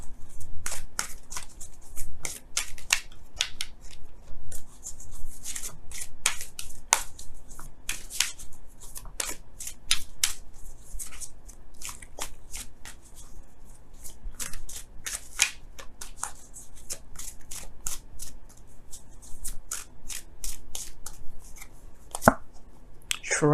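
Romance Angels oracle cards being shuffled by hand, rapid crisp riffling and slapping bursts repeating in an irregular rhythm, close and fairly quiet with no talking.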